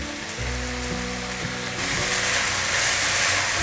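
Washed white rice stir-fried in a pan after seasonings, a steady sizzling hiss that grows slightly louder, with a low hum underneath and no talking.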